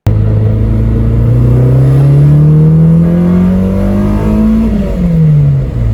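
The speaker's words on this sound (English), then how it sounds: "As you could hear, VTEC engaged" A Honda K-series car engine revs loudly and steadily, its pitch climbing as VTEC engages and then dropping sharply near the end.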